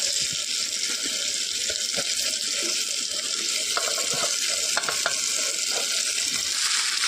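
Spice mix with chillies and tomato roasting in a pan, an even, dense sizzle and bubbling with a few scattered utensil clicks, close and steady, and no clear speech.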